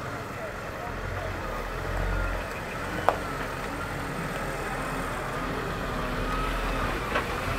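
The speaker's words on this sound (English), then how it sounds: "Big lorry going past." A big lorry rumbles past along a road near an air base, a steady low engine drone with tyre noise holding at moderate loudness throughout.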